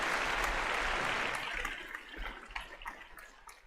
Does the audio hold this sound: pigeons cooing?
no